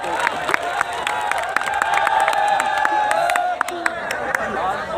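Stadium crowd at a cricket final claps and cheers in a steady, dense wash, with sharp scattered claps popping out and voices chattering throughout.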